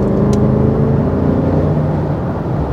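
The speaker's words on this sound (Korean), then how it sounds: "지금 살짝만 밟았을 때는 그냥 배기량 큰 소리 심장은 BMW가 맞는데" A 2023 Range Rover LWB P530 with a BMW engine under light acceleration, heard from the cabin as a deep, muffled, steady engine rumble with faint whir.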